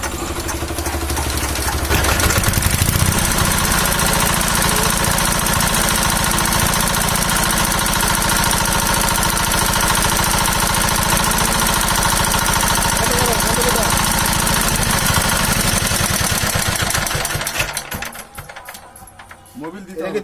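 A pump set engine with a damaged element runs steadily and loud for most of the stretch, a dense mechanical drone with knocking, then briefly dips and drops off near the end.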